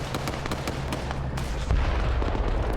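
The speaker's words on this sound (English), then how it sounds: "Based off of that explosion." Arma 3 combat rumbles with repeated sharp cracks and booms over a dense, continuous roar of gunfire and explosions, with a heavier blast landing near the end.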